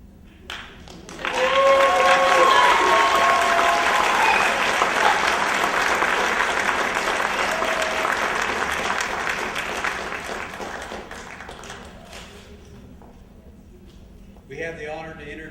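A graduation audience at Haskell Indian Nations University breaks into loud, sustained applause that swells quickly and slowly fades, with a few cheers mixed in and a voice returning at the end.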